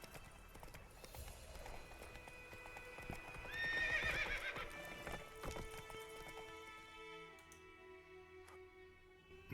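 Roach, a horse in the video game Witcher 3, clops and whinnies, with quick hoof beats under a loud neigh midway, set against a game's ambient music and effects.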